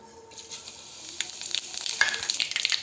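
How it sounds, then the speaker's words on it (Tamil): Mustard seeds, cumin, fennel, cinnamon and cloves hit hot oil in a pan, starting as a faint hiss and swelling into crisp, irregular popping and crackling that grows denser over a few seconds. "கடுகு பொரியுது"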